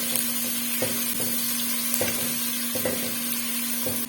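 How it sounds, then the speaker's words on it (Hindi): Chopped onion fries in oil in a pan, giving a steady close sizzle with periodic soft stirring scrapes and a constant hum underneath, no voices. "अब मैं इसके अंदर ये प्याज चॉप करके डाल दूंगी और इसको मिक्स कर लूंगी।"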